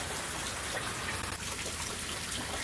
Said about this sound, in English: And you can hear the rain in the back.